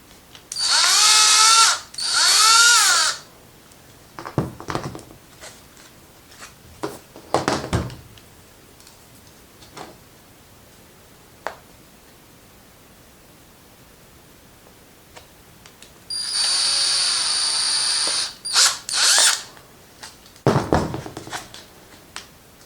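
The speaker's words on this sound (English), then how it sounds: "I'm gonna go ahead and drill them all out" A power drill whines in several loud bursts while drilling holes in a Jason mask replica, two at the start and more later, separated by quiet stretches with small clicks and handling noises.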